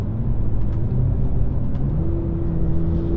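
A BMW M2 engine accelerates hard with a steady, loud, close rumble and a rising engine tone partway through, with no talking.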